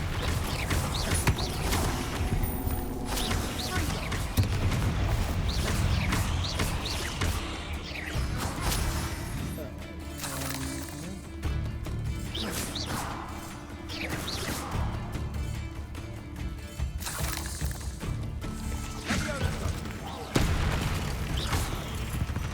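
A Bombarda blasting spell explodes in the video game Hogwarts Legacy, heard as several loud crashing impacts and whooshes packed among busy game sounds and background music.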